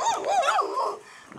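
Several dogs outdoors in wind, giving a burst of close, loud barks and yips that shift in pitch, with whimpery tones, before fading briefly and picking up again.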